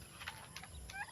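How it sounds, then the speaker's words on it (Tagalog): Farm turkeys gobble with a few quick, faint warbling calls in a brief moment of quiet outdoor background noise. "Ayan ang mga pabo natin, oh."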